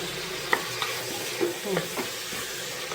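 Ginger garlic paste sautéing in a pan for biryani, giving a steady close sizzle broken by a few stirring scrapes and clinks, with nobody talking.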